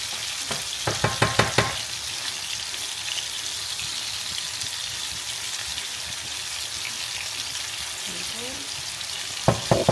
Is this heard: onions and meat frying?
yes